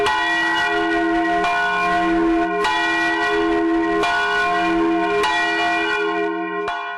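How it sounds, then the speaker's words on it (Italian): The tolling bell of the old Longarone church rings out in slow, evenly spaced strikes, about five resonant clangs whose bright ringing tones overlap and hang in the air without any voices. "Alla fine hanno risuonato i rintocchi della campana che venne trascinata via dalle acque"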